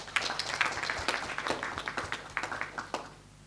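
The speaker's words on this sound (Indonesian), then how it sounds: "Mana tepuk tangannya dong?" An audience claps at a corporate public expose event for an Indonesian company, a burst of individual claps with distinct sharp hits, fairly close and gradually thinning out toward the end.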